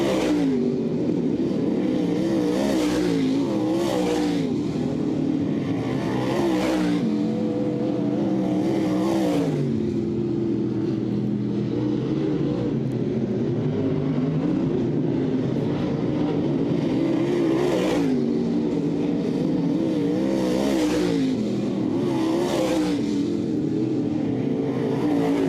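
Race cars on a dirt track at the Southern Ontario Motor Speedway make a loud, continuous engine roar that rises and falls as they pass in waves, with repeated revving surges throughout.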